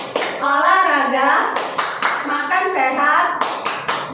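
Children and adults chant a rhythmic health-themed clapping game during an online Indonesian Sunday school session, sharp hand claps landing between the sung, spoken lines at a steady, fairly quick pace.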